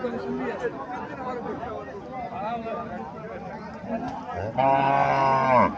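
A Haryana dairy cow at a Bangladeshi cattle market gives one loud, drawn-out moo close by near the end, after a stretch of people talking amid market chatter.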